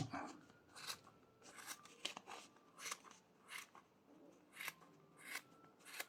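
Scissors snip through crochet yarn in a quiet room, a series of crisp, close cutting clicks repeated at a fairly even pace, each short and sharp.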